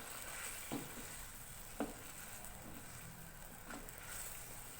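Chicken patiala cooking in a pan on high flame with almond paste, a low steady sizzle with a few soft clinks of a stirring spoon, faint and even throughout.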